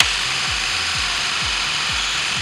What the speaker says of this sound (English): Now I'll drill this hole, and I'll try not to go as deep.